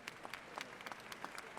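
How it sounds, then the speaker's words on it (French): Faint, timid applause from one section of a church congregation, a few distant scattered claps rather than a full ovation. "Merci pour les applaudissements timides dans cette section là-bas"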